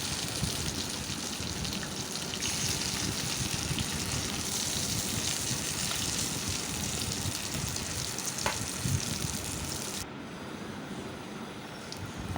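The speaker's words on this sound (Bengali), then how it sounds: "এখন মাছগুলো ভেজে নিব।" Katla fish pieces frying in hot mustard oil in a wok give a dense, steady, loud sizzle throughout, with a faint scrape near the end as the sizzle briefly drops.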